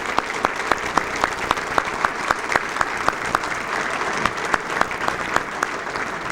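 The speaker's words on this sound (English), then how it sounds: "Stand up, guys, and accept a round of applause from your fans." Fans at a Hall of Fame induction ceremony applaud the honourees. Steady, moderately loud clapping from a crowd fills the room, with a few sharper individual claps standing out in a regular rhythm.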